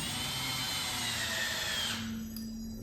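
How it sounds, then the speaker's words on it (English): Power drill with its clutch set light drives a screw into an oak table, a steady high whine that cuts off partway through, leaving a faint low hum. "I've got my clutch set on my drill fairly light"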